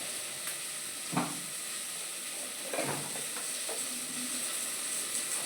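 Chicken thokku frying in a pan with turmeric, chilli powder and garam masala, a steady close hiss and sizzle broken by a few stirring scrapes and soft crackles, with no voices.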